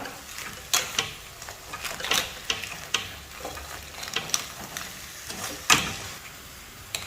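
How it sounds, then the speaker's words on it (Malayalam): Crab and masala are stirred together in a pan, giving a steady frying sizzle broken by repeated sharp scrapes and knocks of the spoon, close and fairly loud, with no talk. "ഈ ഒരു മസാലയും ഞണ്ടും എല്ലാം കൂടെ ഒന്ന് ഇളക്കി യോജിപ്പിക്കണം"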